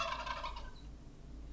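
A turkey gobbles in one quick, warbling burst that fades within about a second, leaving low steady background noise.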